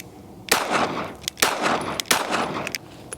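Three sharp, loud gunshots from a Smith & Wesson Bodyguard 2.0 .380 pocket pistol at close range, spaced roughly a second apart, each with a short ringing decay.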